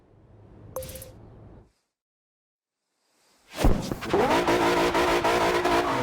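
In the video game Forza Horizon 2, a brief electronic chime, a moment of silence, then a Dodge Charger engine roars to life and revs loudly and steadily, close up.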